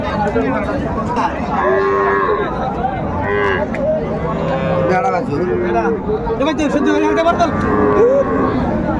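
Several cows with calves mooing close by amid a busy, noisy crowd at a cattle market in Raniganj, with people talking and chattering throughout.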